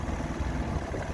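A 1995 Evinrude 112 SPL outboard engine on the water idles roughly, as if running on only a couple of cylinders, with a loud, close, uneven low rumble and no talking.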